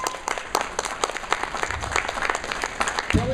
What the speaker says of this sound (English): First off, give yourself a round of applause